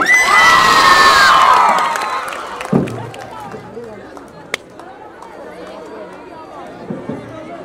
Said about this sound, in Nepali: दाइ र भाउजूलाई जोरदार ताली